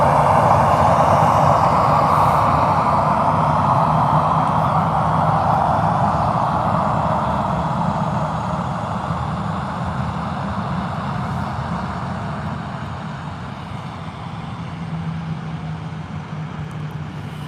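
A Jet2 aircraft at Birmingham Airport produces a loud, broad jet roar that holds steady, then slowly fades as it moves away, with no voices.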